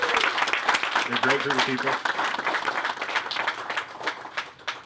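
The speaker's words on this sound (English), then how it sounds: "Let's give them a round of applause." An audience at a political event claps in a round of applause, a dense patter of hands close by, while someone speaks over it and the clapping gradually thins out toward the end.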